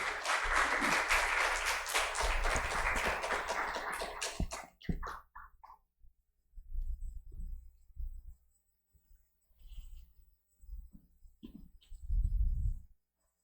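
A church congregation at a special dawn prayer service claps to welcome a visiting preacher, a loud burst of applause for several seconds that cuts off abruptly, followed by faint scattered rustles and low thumps in a quiet room.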